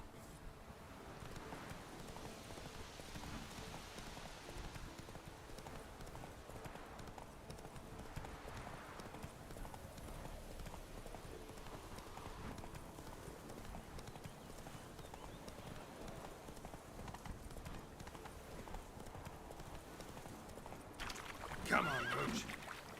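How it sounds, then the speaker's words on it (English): Roach the horse in The Witcher 3 gallops with steady, close clip-clop hoofbeats throughout, and a loud whinny comes near the end; faint voices murmur underneath. "Come on, Roach."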